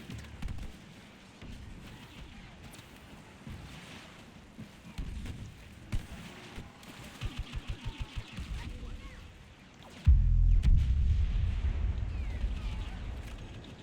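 Rapid bursts of blaster fire echo through a Star Wars Battlefront Rogue One Scarif match, building from scattered shots to a dense volley and then a loud low rumble.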